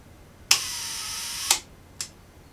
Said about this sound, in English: Cock shutter.